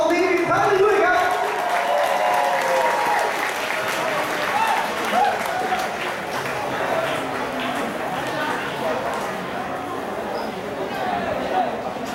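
A crowd at a youth football match between Chonburi FC Academy and Frenz United Malaysia B applauds both teams after the game, a steady wash of clapping lasting about twelve seconds, with an announcer talking over it.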